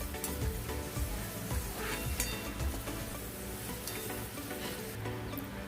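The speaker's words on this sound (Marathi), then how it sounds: "आता मी हा प्रथम कांदा परतून घेते" Onion sautéing in a pan for a Malvani-style clam dish, giving a steady, moderately quiet sizzle with faint scraping stir strokes throughout, no voices present.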